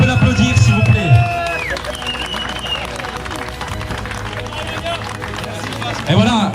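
A car show crowd applauds a prize winner with clapping and cheering beneath a presenter's amplified voice, and the applause swells again at the end.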